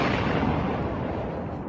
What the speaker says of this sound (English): Why is there an explosion after? He's added that to each sounder.